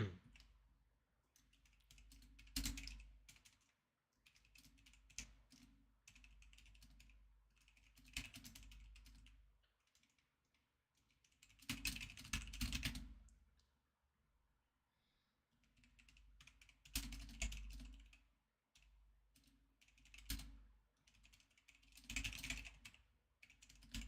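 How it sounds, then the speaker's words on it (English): Typing on a computer keyboard while writing a Discord message, quick bursts of soft clicking keystrokes separated by short pauses, faint and close with no talk. "just typing something up in Discord real quick."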